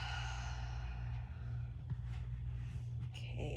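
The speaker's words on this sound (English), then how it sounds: "Exhale out through the mouth." A long exhale out through the mouth during a yoga session, a breathy rush of air over a low steady hum of background noise.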